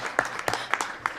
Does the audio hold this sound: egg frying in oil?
no